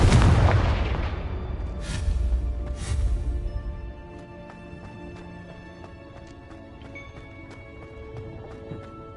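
A Confringo spell fired in Hogwarts Legacy bursts with a loud, booming explosion that decays over about four seconds into a quieter rumbling bed scattered with small crackling impacts and debris ticks.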